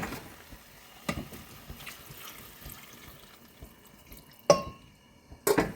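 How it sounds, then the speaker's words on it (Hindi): Water is poured into a pot of potatoes for aloo tarkari, with a few splashy pours and trickles separated by quieter stretches of cooking sounds. "पानी अच्छा खासा डालते हैं।"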